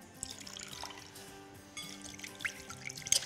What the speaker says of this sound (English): And just a little bit of water.